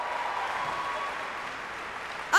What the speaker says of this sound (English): A big round of applause for your 1, 2, and 3 for the women's individual.